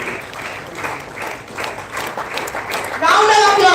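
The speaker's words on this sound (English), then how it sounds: "Round of applause for the leading lady of the Institute, Professor Dr. Sharmila Subramanian." An audience at a college inauguration ceremony for a national oratory contest claps in a round of applause, the clapping steady beneath a speaking voice, then swelling louder near the end.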